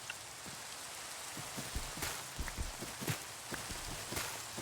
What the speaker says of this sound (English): Let's go make sure this rain goes away